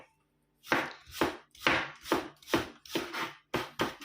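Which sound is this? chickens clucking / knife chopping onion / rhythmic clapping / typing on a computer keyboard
knife chopping onion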